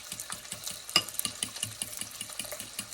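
Hangover breakfast hash being stirred with garlic powder in a pan, a steady run of scraping, clattering spoon strokes over a soft sizzle, fairly close and with no talking.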